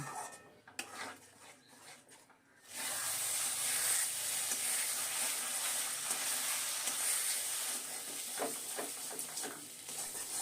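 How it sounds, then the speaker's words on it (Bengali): Potato and pointed gourd peel paste stirred and fried dry in a pan, a steady close sizzle with soft scraping, starting quietly before the frying swells and holds loud to the end. "মিশিয়ে নিয়ে নাড়তে নাড়তে খোসার জলটা শুকিয়ে নেব"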